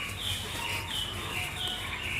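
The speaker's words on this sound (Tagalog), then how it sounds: "May manok pa doon, no?" Chickens cluck softly over a steady outdoor background of buzzing insects and chirping, with a few low murmuring clucks and faint bird calls repeating throughout.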